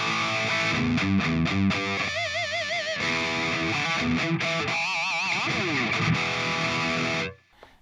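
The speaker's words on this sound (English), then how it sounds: "you can see it's a really dry sound on this one because there's no delay, there's no reverb, there's no modulation happening." An electric guitar plays through a Leo Jaymz Silverbox multi-effects pedal on its Eagle Savage amp model with no delay, reverb or modulation, a distorted dry riff of chugging chords and wavering bent notes that stops abruptly near the end.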